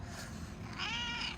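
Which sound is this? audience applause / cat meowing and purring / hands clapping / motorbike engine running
cat meowing and purring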